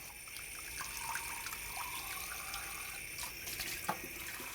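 Kitchen tap water runs steadily into a sink while a squid body is rinsed clean for stuffed squid (ojingeo sundae), a continuous splashing stream with small drips and clatters, close and alone without talk.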